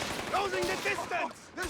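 Gunfire in the video game Company of Heroes 3, heard as rapid bursts of shots under someone talking over it, fairly steady and moderately loud across the short span.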